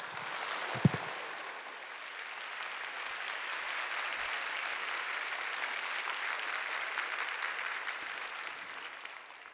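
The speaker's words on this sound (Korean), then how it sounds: "우리 크게 박수하며 맞이하도록 하겠습니다" Church congregation applause at a Sunday worship service welcoming a departing pastor to give a farewell sermon, a broad sustained roar of clapping lasting the whole span and tapering at the close.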